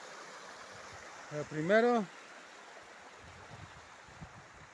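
A river flowing beside a meadow, a constant soft broadband rush of water heard throughout, with someone speaking briefly over it near the start.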